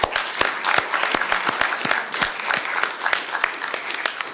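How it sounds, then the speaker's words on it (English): A small audience claps at a county COVID-19 briefing, with distinct individual claps audible in an uneven, moderately loud burst lasting a few seconds. "So join me in giving them all a round of applause."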